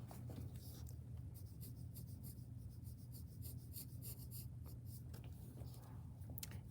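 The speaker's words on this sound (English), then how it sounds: "curve it a little, and then we're going to draw down to the corner" A pencil drawing a line on paper gives a faint, steady scratching that runs on close by, with small rubbing strokes and no talk.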